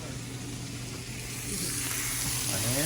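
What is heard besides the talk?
onions sizzling on the grill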